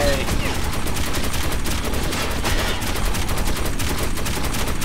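Dense, continuous gunfire from the Metro 2033 Redux video game, rapid overlapping shots and bursts that stay loud and steady throughout with no break.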